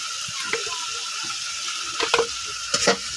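Turmeric and chilli powder sautéing in a pan with a steady low sizzle, while a spoon scrapes and stirs in three short bursts, near and alone.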